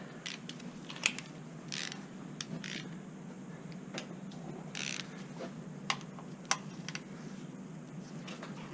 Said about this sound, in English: Get your 3/8 ratchet.